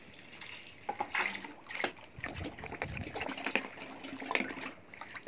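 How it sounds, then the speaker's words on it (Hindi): Sesame oil poured into a large pot, six litres added to a batch of special oil for fattening goats, gives a steady liquid pouring and splashing sound at moderate level, with small clanks and no talk. "अभी जो है वो तिलों का तेल डालने लगे हैं छः लीटर जो है वो तिलों का तेल डालेंगे इसमें"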